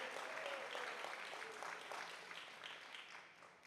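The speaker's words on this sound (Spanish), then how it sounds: "Dele un fuerte aplauso al Señor." Congregation applauding at a Spanish-language Bible school church service, a dense steady wash of clapping that thins slightly toward the end.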